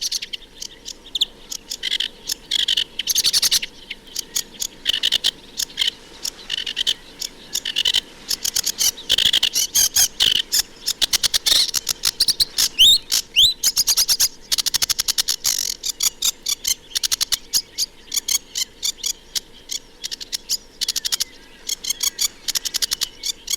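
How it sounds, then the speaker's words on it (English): A sedge warbler sings a varied, busy song of rapid chattering phrases mixing musical and harsher scratchy notes, continuous and fairly close for the whole stretch, with no voices. "The sedge warbler has a varied song, full of musical and harsher notes."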